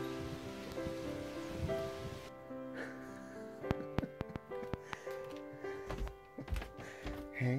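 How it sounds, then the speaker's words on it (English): Rain falls outdoors with a soft continuous patter, joined by scattered sharper drips and thunks on nearby surfaces; faint and fairly close, with no voices. "It is raining."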